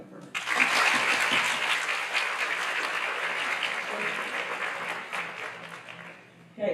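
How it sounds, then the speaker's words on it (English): An audience at Cherry Hill West's 2025 Night of Stars school awards event bursts into applause for a student honoree, a dense patter of clapping that starts abruptly, stays steady, then fades and cuts off. "Clap it up for her."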